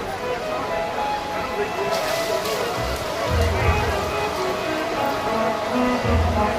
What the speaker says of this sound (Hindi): बारिश नहीं कम होने वाली